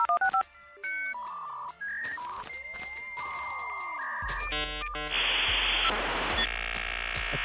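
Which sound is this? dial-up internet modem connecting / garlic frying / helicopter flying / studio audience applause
dial-up internet modem connecting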